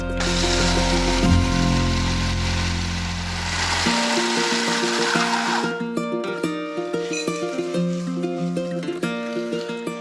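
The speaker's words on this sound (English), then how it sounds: "I'm going to use cornflakes and I need to blend them to medium coarse" A kitchen blender whirs loudly while grinding cornflakes into medium-coarse crumbs; the motor runs steadily for about four seconds, then stops, leaving a series of light clattering and tapping sounds.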